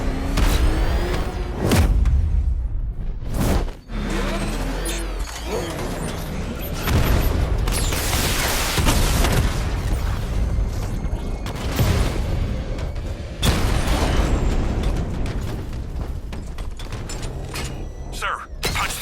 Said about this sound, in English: Your 60mm cannon will penetrate these heavily armored units